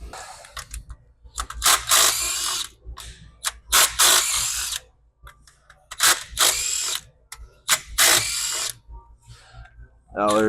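Impact wrench zipping bolts off the valve cover of a 3rd Gen 6.7 Cummins diesel, a series of loud, close bursts of whirring and ratcheting with brief pauses between them.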